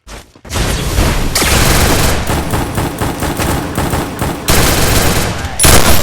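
Loud, rapid automatic gunfire in a video game firefight, with dense bursts of shots firing almost continuously and only short pauses between volleys.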